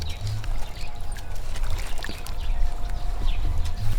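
Irrigation water runs into a garden bed planted with green beans and impwa, a steady nearby trickle and wash that carries on evenly throughout without any talking.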